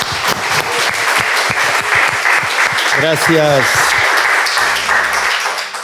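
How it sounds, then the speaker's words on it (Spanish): A crowd applauds with steady, dense clapping throughout, while a voice speaks briefly over it near the middle. "Muy bien, un aplauso."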